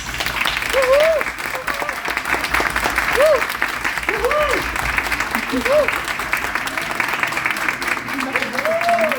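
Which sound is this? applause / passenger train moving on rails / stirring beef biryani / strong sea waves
applause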